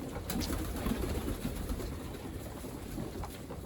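Pigeons in a breeding loft coo in a low, steady murmur of overlapping calls, close and continuous, with faint bird chatter above it.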